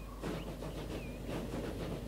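Old steam trains in the Transport Fever 2 game give a low, continuous rumble of rolling wagons with a soft hiss and faint high squeals, steady and moderately distant throughout, no voices.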